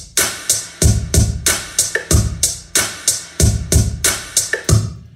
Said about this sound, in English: Snares are on 2 and 4, okay? So that's our regular time groove